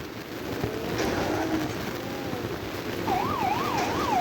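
Police siren in a driving video game, a wailing up-and-down tone rising over a dense, loud rumble of engine and road noise, with the siren entering partway through.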